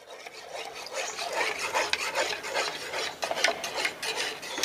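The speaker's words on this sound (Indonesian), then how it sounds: "Diaduk sampai benar-benar larut semua larutan susunya di sini" Powdered milk is stirred into plain water until it dissolves, giving a steady, close scraping and rubbing that runs without a break and has no talk over it.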